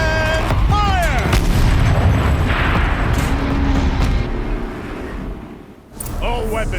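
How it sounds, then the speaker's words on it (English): A game turret cannon in a machine factory fires, giving a loud boom with a long rumbling tail that fades out. A voice follows at the end. "Rotate turret! And fire!"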